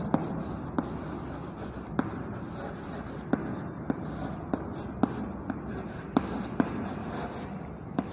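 A pen scratching over paper while answers are written on a worksheet, soft continuous strokes broken by small sharp taps, close and fairly quiet over a faint steady background hiss.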